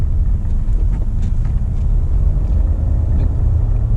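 Inside a Hyundai Santa Fe with a 2.2L diesel engine, a steady low engine drone with road rumble runs as the SUV accelerates and shifts up around 1800 RPM, with no voices.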